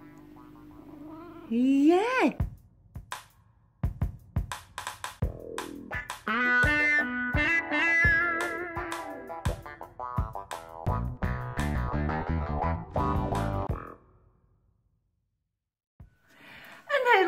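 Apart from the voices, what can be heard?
cat meowing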